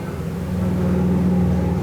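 Loud motorcycle engines rumble past outdoors near a campsite, a deep, steady drone that swells and grows louder toward the end, with no talk.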